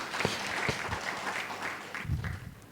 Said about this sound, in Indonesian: Jika tepuk tangan meriah buat Tuhan kita.